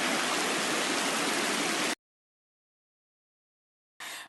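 River water rushing steadily near Tanay along Marilaque toward Mamuyao, running high after rains; a loud continuous broadband wash that cuts off abruptly, then returns briefly at the end.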